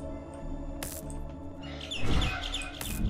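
Chirps and tweets from a bird in the video game Garten of Banban 6 rise over a busy game soundtrack with droning tones and a few sharp whooshing hits.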